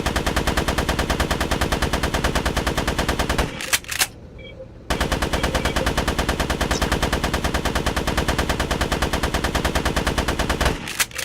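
Assault rifle in the shooter game GRAV firing long, loud, rapid automatic bursts, broken by a roughly one-second pause before the fire resumes and runs almost to the end.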